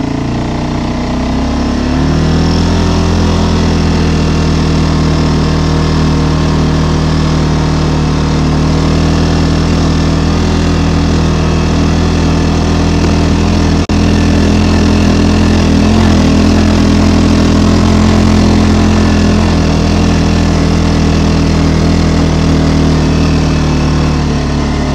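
A tracked bulldozer's diesel engine labours steadily while climbing a steep skid trail, loud and close throughout with a continuous droning rumble and no talk.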